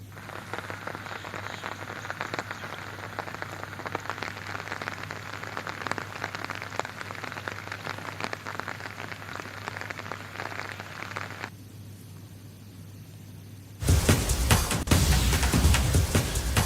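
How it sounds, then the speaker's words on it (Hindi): Heavy rain pours steadily in Rajouri, a dense even hiss of drops on surfaces that briefly thins before returning louder and closer near the end, with a low steady hum underneath and no talking. "राजौरी में आज सुबह से भारी बारिश का सिलसिला जारी है"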